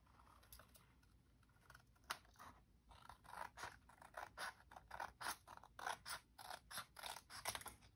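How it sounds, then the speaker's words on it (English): Scissors trimming around paper pieces for a scrappy mixed-media mini journal, a close, quiet run of short snipping cuts that quickens into a steady rhythm, with no talking. "let's go ahead and trim around this"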